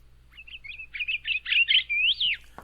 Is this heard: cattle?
no